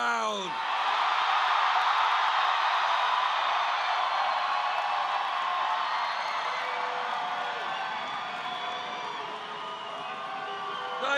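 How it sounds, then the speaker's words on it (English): A loud crowd cheers, whoops and yells at an evening political news event, a dense, sustained roar that stays steady throughout with only slight easing toward the end. "And this is a loud crowd."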